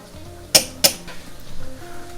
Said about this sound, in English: We'll drop our fresh pasta in here. And we'll give it a nice stir